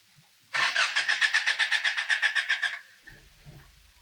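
A project car's engine with a different exhaust manifold cranks over in a fast, even, rhythmic churning for about two seconds, then catches briefly and fades into a low, faltering rumble, all fairly quiet with no talk.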